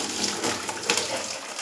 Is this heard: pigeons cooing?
no